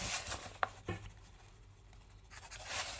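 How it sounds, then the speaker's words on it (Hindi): A pen scratches across paper by hand in short strokes, faint and close, with a couple of light taps and pauses between. "तो मैं लिखता हूँ नाउ"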